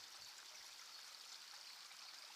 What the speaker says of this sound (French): on va écouter 2 secondes le petit ruisseau